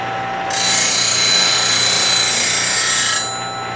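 Woodturning tool ground against a spinning grinder wheel, a steady high hiss of steel on abrasive lasting about three seconds, rising from and fading back into the motor's hum.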